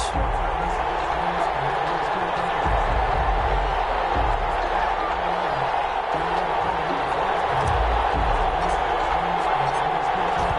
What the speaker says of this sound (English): This crowd is ready as their guys get set to match up between the Seattle Seahawks and the Detroit Lions.